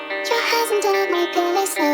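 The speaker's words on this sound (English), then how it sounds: "the guitar with the vocal sample sounds like this" Guitar sample layered with a chopped, tempo-stretched female acapella vocal from a song; the sung fragments glide over sustained guitar chords, loud and close, with no speaking.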